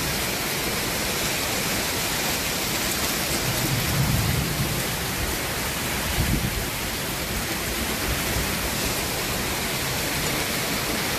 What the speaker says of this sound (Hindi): हल्की हल्की बारिश हो रही है और ये अच्छा लग रहा है।